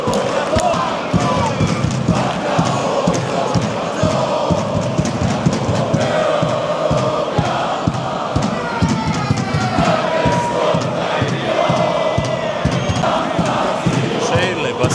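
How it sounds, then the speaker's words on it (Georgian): Malmö football supporters chant and cheer continuously inside a stadium during a match, a dense, loud crowd roar with rhythmic claps and sung chants filling the whole stretch. "გულშემატკივრები არ ჩერდებიან"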